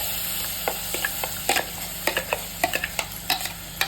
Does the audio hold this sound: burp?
no